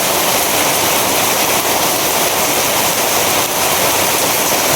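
Heavy rain pours down during a morning storm, a loud, unbroken roar of water that holds steady from start to finish with no pauses or voices.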